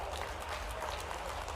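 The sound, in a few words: audience applause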